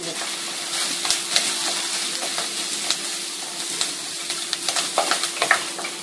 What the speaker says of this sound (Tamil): சீரானதுக்கப்புறம் வெங்காயம் சேர்த்து வதக்கணும்